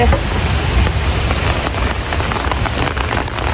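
Rain pours down outdoors in the evening in downtown Toronto, a loud dense steady patter on surfaces that stays constant throughout and never lets up.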